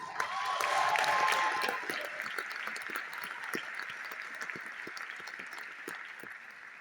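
An audience at a mayoral breakfast claps loudly, swelling briefly before settling into sustained, steady applause with no voices over it.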